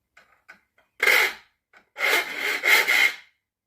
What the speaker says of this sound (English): Now this saw has already been set, but it's a little bit dull, so I'll get to sharpening that now.